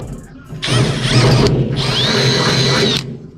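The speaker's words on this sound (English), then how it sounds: "I'm just gonna drill through." A loud power drill grinds through metal in two bursts while fitting hood vents on a Toyota Land Cruiser, with a brief pause between them, its whine rising and straining as the bit cuts.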